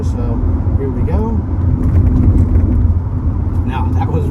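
4th-gen Honda Prelude Si 4WS rolling over a road undulation in third gear at about 40 mph, a steady low cabin rumble of engine and tyres with a bump near the middle, while someone talks over it.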